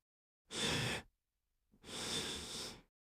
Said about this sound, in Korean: 거친 숨소리가 지하 텅 빈 공간을 메운다.